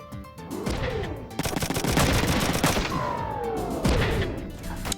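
Heavy gunfire from the video game Front Mission 3: loud, rapid bursts of automatic fire with crashing impacts and sweeping tonal effects, filling the whole stretch.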